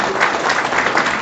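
Loud, dense applause from a crowd at a political rally in Dalifort, Pikine, with many hands clapping together in a sustained burst.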